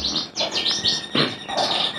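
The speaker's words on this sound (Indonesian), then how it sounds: "jarang juga kan peternakan beranjangan ini, burung beranjangan gitu" Several bright, quick chirps from branjangan (bushlark) birds at a breeding farm, clustered in short bursts close by with no talk.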